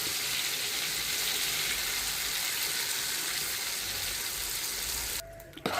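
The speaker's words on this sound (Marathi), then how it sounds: "हा मी मसाला बारीक केलेला आहे, ते असा मस्त असा भाजून घेऊया" Ground masala paste roasting in a hot pan for a Kolhapuri chicken sukka gives a steady, dense sizzle that runs close and even, then cuts off abruptly near the end with a brief clatter.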